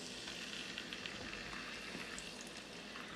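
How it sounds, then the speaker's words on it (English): Steak meat sizzles in regular vegetable or canola oil in a pan, a soft, steady, even frying hiss with faint crackles and no voices. "But I'm going to cook my steak meat first."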